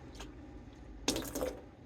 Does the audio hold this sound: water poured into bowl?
yes